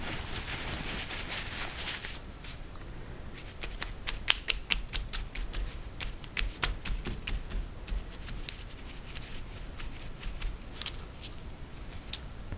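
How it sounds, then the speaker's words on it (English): A paper towel pressed and dabbed repeatedly onto wet marbled paper, giving a series of soft, close tapping and crinkling pats in an irregular rhythm, with no talking. "now I'm just going to pounce on it with a paper towel."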